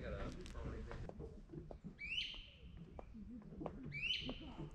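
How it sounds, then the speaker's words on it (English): A wild bird in Corkscrew Swamp Sanctuary, Naples, Florida, gives two sharp, descending high calls about two seconds apart, heard close over a busy background of other swamp sounds and faint voices. "I'm not sure I know what that bird is."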